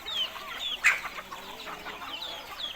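Small young chickens cluck and peep softly nearby, with a few thin calls and one brief louder squawk in a quiet setting.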